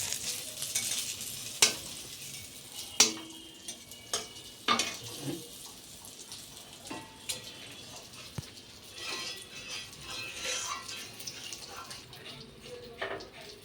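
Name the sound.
eggplant frying in a pan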